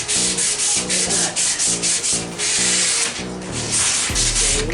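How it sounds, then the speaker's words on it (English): Sandpaper rubbed by hand along the edges of a wooden console piece, giving loud, steady back-and-forth rasping strokes in an even rhythm close to the listener. "A little bit of sandpaper just to clean these edges up"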